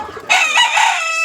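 Young turkey chicks at a farm give one sustained, high, bright peeping cry that comes in abruptly and fills the short moment, close and fairly loud, with no talk.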